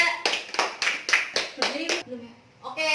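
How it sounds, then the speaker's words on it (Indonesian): Children in a classroom clap in a quick run of about seven sharp, separate claps, fairly close, followed by a short pause and a brief spoken voice. "Tepuk tangannya dong buat Winda."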